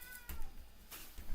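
A cat gives a faint meow, short and quiet, set against soft background noise. Two brief bursts of noise bracket the call.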